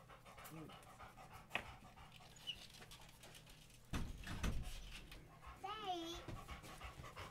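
Several dogs pant and shuffle indoors as they come in, close and fairly quiet, with thumps of movement and people talking over them.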